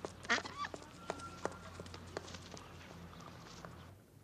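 A duck gives a few quick, nasal quacks near the start, close by, followed by scattered soft footsteps and shuffling in a quiet room.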